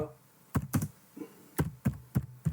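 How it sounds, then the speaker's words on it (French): Computer keyboard typing during installation of the Flutter SDK on Windows: a few separate bursts of clustered keystrokes, fairly close and clear, with short pauses between groups and no talk. "je vais taper Download"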